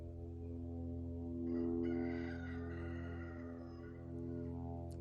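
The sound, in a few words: roosters crowing during eclipse darkness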